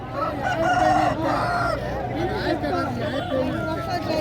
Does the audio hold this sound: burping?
no